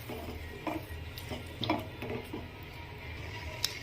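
Eggs for egg bhurji cook in a pan on low heat with a soft steady sizzle, while a spatula scrapes and taps against the metal in scattered strokes, fairly quiet and close, with no talking.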